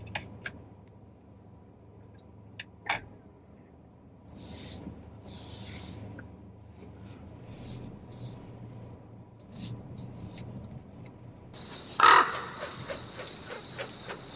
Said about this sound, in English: Just looking out for any crows.